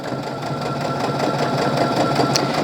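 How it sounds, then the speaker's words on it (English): A sewing machine runs a steady straight stitch through a zipper on a zipper bag, producing a continuous close, even motor whir with a rapid needle rhythm for the whole stretch. "So you're going to run your straight stitch through the zipper."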